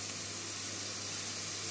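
Water lily stems and shrimp sautéing with grated coconut in a pan, a steady close sizzle and hiss with no talk over it.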